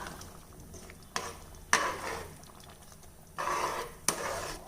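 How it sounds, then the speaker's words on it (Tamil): A spoon scrapes and sloshes through a pan of wet rice and water for veg biryani in several separate stirring strokes, with clinks of metal between them. "இப்போ இதை நல்லா கலந்து விட்டுக்கலாம்"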